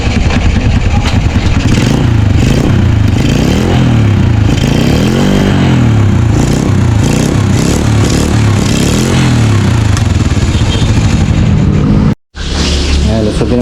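A motorcycle with a stock, never-opened engine runs loud and close in a steady rhythmic chug, with a brief cutout near the end.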